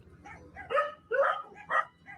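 A pack of roughly a dozen dogs at a rural house bark in short bursts, several barks and yips spaced across a couple of seconds at moderate distance, with no speech.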